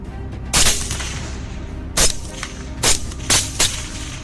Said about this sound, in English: every few minutes, gunshots rang out, signaling that more wild boars had been taken down